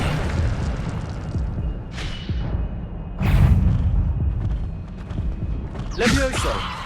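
Spell effects for Levioso, Incendio and Accio in the video game Hogwarts Legacy land as a run of deep booms and bright bursting pops, with a voice speaking between the hits.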